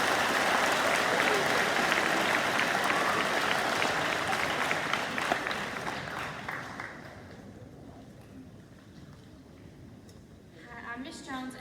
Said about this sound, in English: Let's give these students a round of applause as well